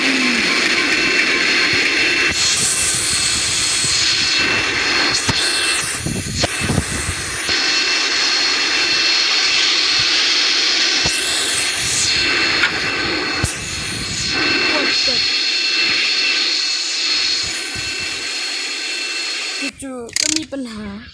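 Loud, roaring aircraft engine noise fills the whole stretch as a plane comes down in a video game, with surges and crashing bursts and a person talking excitedly over it.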